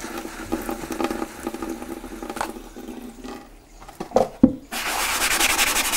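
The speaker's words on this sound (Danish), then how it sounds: "Og så begynder jeg at skure i det med vand og sæbe." A painting being scrubbed hard with a stiff brush, water and soap, a coarse rasping scrub in quick strokes, a short pause with a few knocks, then louder steady scrubbing close by.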